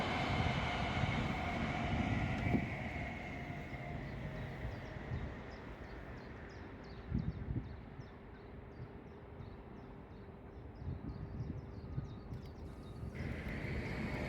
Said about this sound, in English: a 9-coach LNER Azuma followed the Voyager north